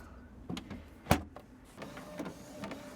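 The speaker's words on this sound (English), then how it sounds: "Let's hope this prints all right. My printer likes to print crooked on the paper" A home printer prints a scanned page, giving a faint mechanical whir with scattered clicks and one sharp clunk partway through, alone in a quiet room.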